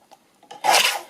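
A trimmer cutting fabric gives one brief, close rasping scrape after a couple of faint ticks.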